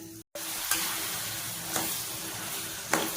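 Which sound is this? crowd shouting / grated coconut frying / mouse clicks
grated coconut frying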